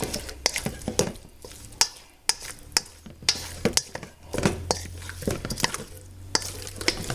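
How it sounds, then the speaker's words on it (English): A spoon scrapes and clanks against a bowl or pan while stirring buffalo cauliflower, producing irregular sharp metallic taps and wet shuffling, close and moderately loud, with no talking. "I want to get a little bit better mix in here, so I'll go back to the spoon"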